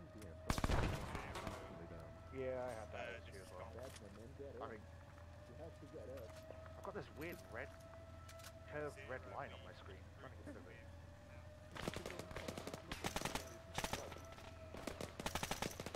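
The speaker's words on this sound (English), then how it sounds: "Shots from west." Sporadic gunfire from an Arma 3 night-time military operation, with a close sharp shot early on, then scattered rattling bursts and a denser volley near the end, heard under ongoing radio chatter and voices.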